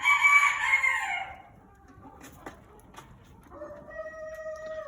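A large fowl Mottled Chocolate Houdan rooster crows loudly and close at the start, then the crow gives way to quieter, intermittent bird calls.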